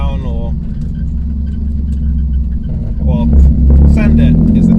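A stage 2 tuned 97 bhp Toyota Aygo engine drones steadily from inside the car, then swells louder as the throttle opens, with someone talking over the engine.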